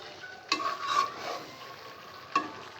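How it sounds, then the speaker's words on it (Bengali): Chicken roast pieces being stirred into a simmering fried masala made with Radhuni readymix roast spice, with soft scraping strokes against the pan over a low steady sizzle, two sharper stirs standing out. "আমি রোস্টগুলো দিয়ে একটু নেড়ে চেড়ে নিব,"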